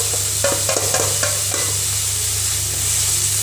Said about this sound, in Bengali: এবার এর মধ্যে আবার রসুন আর লঙ্কার পেস্টটা দিয়ে দেব।